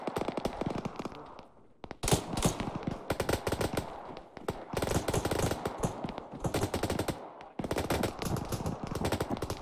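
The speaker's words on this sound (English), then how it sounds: "Getting shot at." Dense bursts of automatic gunfire in Arma 3, rapid cracking volleys near and loud, broken by brief pauses.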